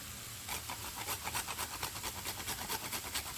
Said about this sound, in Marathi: आपल्याला थोडंसं जायफळ किसून टाकायचं आहे